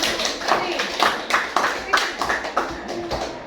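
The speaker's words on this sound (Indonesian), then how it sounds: "berikan tepuk tangan yang paling meriah" Clapping at a classroom teaching session, with bursts of claps rising and falling over about three seconds under a faint background voice.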